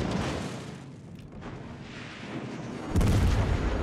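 Naval gunfire and HE shell hits in the World of Warships Legends video game, with rumbling booms and a heavy blast near the end under continuous battle noise.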